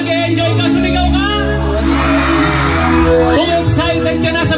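A festival crowd at a nighttime outdoor concert in San Jose shouts, whoops and cheers, a loud, sustained roar that swells in the middle before settling back toward scattered yells.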